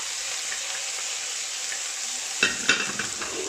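A fish pastilla filling with olives, lemon and mushrooms sizzles steadily in a pan, then a utensil stirs it in a few close, scraping strokes near the end.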